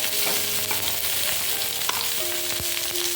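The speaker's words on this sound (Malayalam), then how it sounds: "വെളിച്ചെണ്ണ പാന് ചൂടാക്കി തന്നെ 2 പച്ചമുളക് കീറി അപ്പോൾ അതെല്ലാം പുരട്ടി കൊടുക്കാം." Two slit green chilies fry in hot coconut oil in a pan, making a loud, steady sizzle that runs unbroken, with a few soft stirring scrapes and no voices.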